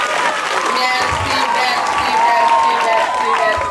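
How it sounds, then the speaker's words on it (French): Crowd at a church feast-day celebration applauds loudly, sustained clapping mixed with cheers and children's voices, with chatter running underneath. "On applaudit encore très fort pour eux."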